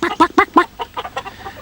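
Broody hens on nest boxes squawk in alarm, a rapid burst of loud, harsh clucks that trail off into quieter, scattered squawks, close by with no talking.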